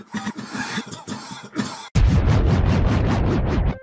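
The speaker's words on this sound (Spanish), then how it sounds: "comienza a toser de manera incontrolable." Harsh, repeated human coughing fits, first in choppy bursts and then a dense, rhythmic run of hacking coughs, loud and close.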